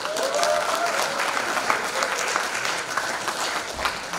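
An audience at a district club members' meeting in Daejeon claps, sustained dense applause from a roomful of people, fairly close and steady throughout.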